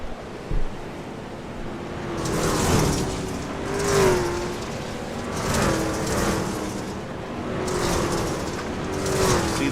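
Dirt track race trucks roaring around a drying dirt oval, engines surging and fading in repeated passes under steady broadband wind-like rumble, no talk.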